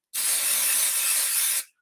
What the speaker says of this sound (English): So I'm using spray adhesive, very, very quick.